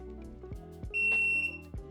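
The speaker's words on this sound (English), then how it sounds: "Wow, that was a very loud beep." A loud, steady electronic beep from a Nosfet Aero electric unicycle as it powers on, lasting about half a second over low background rumble and handling noise.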